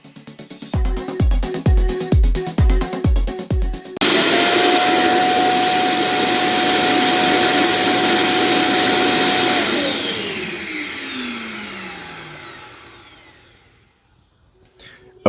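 An iRobot Roomba j7+ self-emptying dock roars into action after a few rhythmic clunks, a loud jet-like whine and rush that holds steady for several seconds, then spins down with a falling pitch, close by with no talk.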